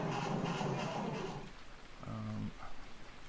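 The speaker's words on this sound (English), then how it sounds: "here come the rain" Rain falls in a farming video game, a steady hiss of downpour that fades after a second or so, followed by a brief tonal game sound.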